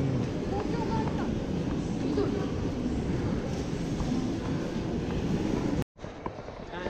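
A Tokyo Ginza Line subway train pulls out, rumbling and roaring steadily with a dense, continuous noise, voices murmuring faintly underneath, then a sudden cut to quieter sound near the end.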